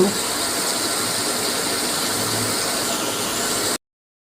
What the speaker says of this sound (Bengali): ফ্রেঞ্চ ফ্রাইগুলা দেখেছেন কত সুন্দর করে ভাজা হচ্ছে